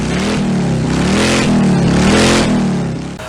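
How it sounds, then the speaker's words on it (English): A modified 2019 Harley-Davidson Road Glide Ultra's V-twin engine revs loud and close, pitch rising and falling through a couple of throttle blips over a steady rumbling idle, with no talking. "It is a 2019 Harley-Davidson Road Glide Ultra, but it's modified."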